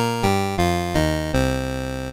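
Korg Poly 800 vintage analog synthesizer playing a sustained note with all oscillators on, a bright buzzy chiptune-like tone restruck in several steady steps before a final longer hold, clear and alone.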